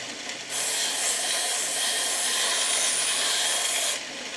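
Hardwood being sanded on a tiny triple sanding station, a steady loud abrasive rasp that starts abruptly, holds evenly for about three and a half seconds, then stops.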